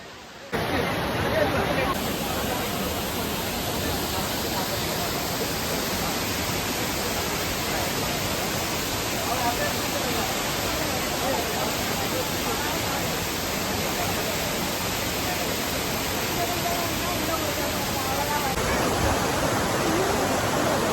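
Water at Courtallam waterfall pours down in a steady, dense roar that fills the whole span without a break, holding loud and even from start to finish.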